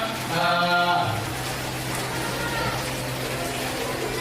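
Rain falls outside a school as a steady, diffuse hiss of water, with a brief tonal hum near the start that fades into the continuous wash.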